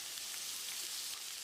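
Onions sizzle steadily in hot oil, a constant crackling hiss with no pauses.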